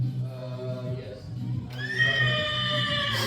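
A horse whinnies loudly, a long shrill neigh rising over a low steady hum, close by.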